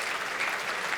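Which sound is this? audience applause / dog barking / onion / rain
audience applause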